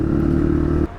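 A motorcycle engine on an evening ride gives a steady, loud, low droning hum that cuts off abruptly near the end.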